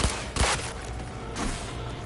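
Assault rifle fire in the Cyberpunk 2077 video game: two sharp broadband bursts, one near the start and a weaker one later, ringing over a steady background rumble.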